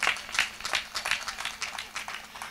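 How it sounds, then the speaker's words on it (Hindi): An audience at a Hindi comedy poetry gathering claps in scattered, rhythmic bursts, fairly faint and distant, with a bit of voice underneath. "तालियां ऐसे नहीं बजाइए"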